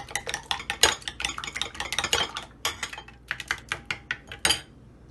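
Two eggs are whisked in a bowl for a batwa sandwich, with quick, close clinking strokes of utensil against the dish in an uneven rapid rhythm.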